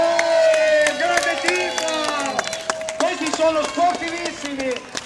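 A lively crowd cheers and shouts at a night-time wheelbarrow race through Castel San Pietro Terme and Varignana, with excited voices, whoops and scattered claps rising and falling close by, mixed with people talking.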